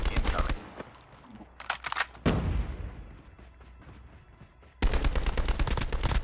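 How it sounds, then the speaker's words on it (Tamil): Rapid bursts of Call of Duty battle royale gunfire crackle in two loud volleys, separated by a sharp blast and a lingering rumbling decay. "நான் துப்பாக்கியில குண்டு தான் அடிக்க முடியும்."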